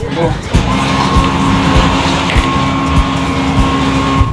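An 850-horsepower all-carbon-fiber monocoque Chevy C10 race truck with a sequential transmission roars loudly up close as it accelerates, the engine note strong and steady, with a voice over it.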